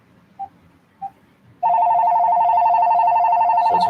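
An AT&T EL52119 cordless phone rings with a steady, loud electronic ringer tone that sounds continuously after two short soft beeps, close and alone with no talk.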